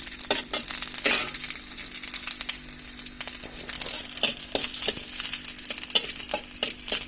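Garlic frying lightly in oil gives a dense, continuous sizzle with frequent scraping clicks from stirring in the pan, close and fairly loud with no talking.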